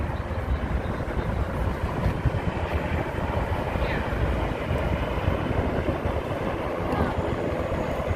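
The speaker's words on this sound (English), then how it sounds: "There's a helicopter, yeah, like where are the helicopters?" A helicopter approaches a heliport on the Hudson River in New York City, its rotor making a steady, rough broadband rumble at moderate distance under outdoor city ambience.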